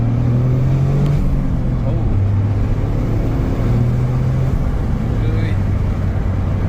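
A new Toyota Corolla GR with its three-cylinder engine and exhaust holds a steady, loud low drone and rises in pitch a few times, with a brief spoken exclamation over it.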